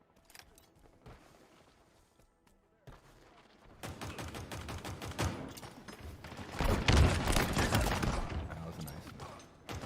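Gunfire from the Sidekick pistol in Halo Infinite, heard as a dense run of sharp, loud shots in the second half that builds over a quieter opening, with a voice speaking briefly.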